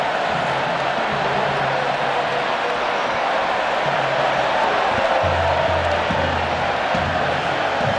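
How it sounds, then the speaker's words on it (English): A big stadium crowd at Camp Nou during a Barcelona–Arsenal football match roars and cheers steadily in a dense, continuous wash of noise, with a low chant rising and falling underneath. "The cheering you can hear, a real festive atmosphere for this game."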